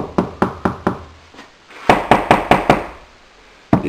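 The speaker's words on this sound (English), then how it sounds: "You can hear how loose it is." Knuckles rap on loose nailed-on drywall in two bursts of four or five hollow knocks each, with a single knock between them and another at the end. The knocks are close, sharp and rattly, with no voices.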